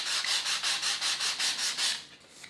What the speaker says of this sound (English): I am just sanding just to scratch off some of that shiny stuff